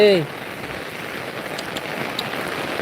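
Steady rain falls in a dense, even hiss on surfaces throughout, following a brief voice at the very start.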